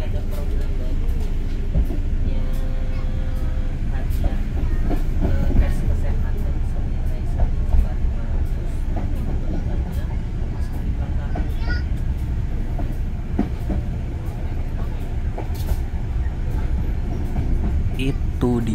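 KA Airlangga passenger train running on rails in Indonesia, rounding a left curve toward Cirebon, heard from inside the carriage as a steady, loud low rumble and rattle with faint clicks throughout.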